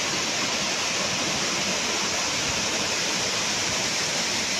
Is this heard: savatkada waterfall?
yes